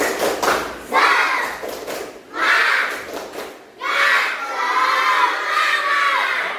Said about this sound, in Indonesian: Yuk lagi, yuk tepuk semangat.